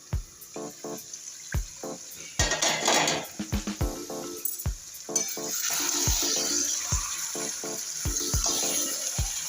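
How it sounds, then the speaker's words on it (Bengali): Metal lid clanks against a pot of village-style mutton curry, followed by a spoon scraping and knocking as the meat is stirred over a steady, close sizzle that grows louder toward the end. "মিনিট পর আমি ঢাকাটা খুলে নিচ্ছি"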